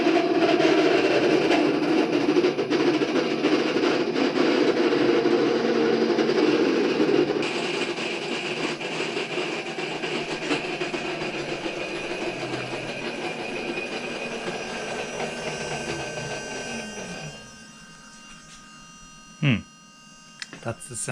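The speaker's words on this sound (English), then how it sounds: "That's the sound of a motor spinning on a coupler that has reached the end." Electric motor in an Audi 80 EV conversion whirring and grinding as it spins on a worn-out coupler, loud at first, then fading and winding down, with a couple of short clunks near the end.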